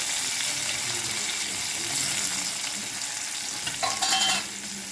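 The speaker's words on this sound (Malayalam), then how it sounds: "വെളിച്ചെണ്ണ ഒഴിച്ച് കടുവിട്ട് അതിൽ ഉള്ളിയും വറ്റൽമുളകും ഇട്ട് നമ്മൾ കറിവേപ്പിലയും ഇട്ട് കടുക് വറുക്കണം." Mustard seeds, onion, dried red chillies and curry leaves frying in coconut oil in an old pan for Kerala-style bitter gourd thoran, a steady close sizzle with a brief burst of louder spattering near the end.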